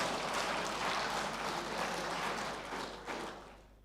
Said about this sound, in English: So I think Peculiar Ultimate Concerns Limited deserves a bigger round of applause.